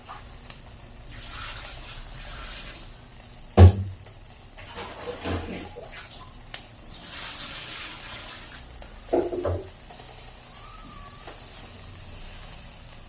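Barbecue pork sizzling on a home grill gives a low, steady hiss that runs through the whole stretch. A few sharp knocks and clatters stand out over it, and no one speaks.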